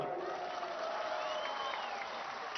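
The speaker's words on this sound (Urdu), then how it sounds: "سب مل کے ان کے لیے بھرپور تالیاں" A crowd at an outdoor PTI political rally in Mansehra applauds in the rain. The clapping is a soft, distant, continuous wash with faint voices mixed in.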